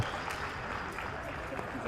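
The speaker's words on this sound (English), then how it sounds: "as they cheer on a tremendous effort from both teams today" Crowd cheering and applauding at a U15 girls' soccer final between Ottawa TFC and Oakville SC, a steady wash of distant, moderately loud crowd noise with scattered claps and voices throughout.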